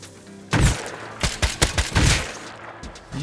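Semi-automatic rifle fire from the survival game Rust comes in a rapid series of about six loud, close, booming shots with ringing tails.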